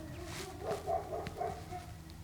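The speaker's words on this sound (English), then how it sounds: "and now you hear my dogs" Dogs bark in a short burst of yelping, whining barks, moderately close, just after an ambulance has passed.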